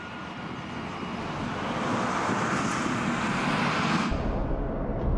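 Airliner engines drone steadily in flight before landing, a broad, continuous roar that builds slightly and holds, alone without voices.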